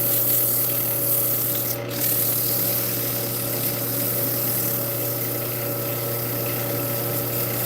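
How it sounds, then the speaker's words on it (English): Steady, even rubbing and sanding by hand on a small workpiece with a cut indent, a continuous close scratchy drone with a faint hum underneath and no talking. "sand this real quick"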